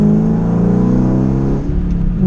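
Car fitted with Steeda charge motion delete plates pulls hard in a higher gear, the engine and exhaust droning loud and close with a rising, steady tone before it briefly drops off and picks back up near the end.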